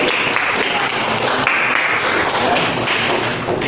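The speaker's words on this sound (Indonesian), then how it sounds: "Tepuk tangan teman-teman nih." Classroom applause from a group of students, a dense, steady patter of clapping lasting a few seconds at even loudness, with no speech over it.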